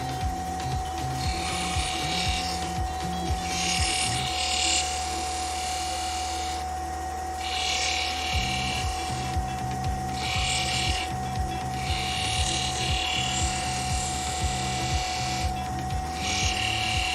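A lapidary tool cuts opal gemstones with a steady high motor whine, while grinding bursts come and go in uneven pulses as the stone is pressed to the wheel and lifted away, close and continuous, without speech.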